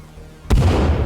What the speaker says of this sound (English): So you can now explode creepies